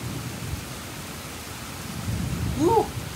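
Heavy rain hisses steadily and low thunder rumbles during a night thunderstorm in a heatwave, heard from a balcony, the roar swelling near the end with a brief high chirp.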